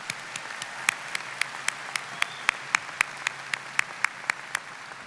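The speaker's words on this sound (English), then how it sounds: "let's have another round of applause for the trio" A university commencement ceremony audience gives a round of applause, heard as a fairly quiet, distant wash of clapping with a few sharper, regularly spaced claps standing out near the front.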